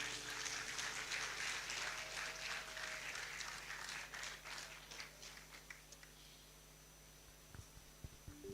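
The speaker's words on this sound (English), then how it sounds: "Another round of applause as we welcome the presenters." An audience at a university optometry school's first white coat ceremony claps in a soft, distant patter that thins out and fades to near silence, with a few stray claps near the end.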